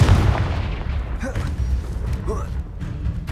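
Spell explosions burst in the Hogwarts Legacy video game on PS5, heavy booming impacts with gunfire-like cracks and rumble filling the clip amid game effects, a voice shouting over the combat.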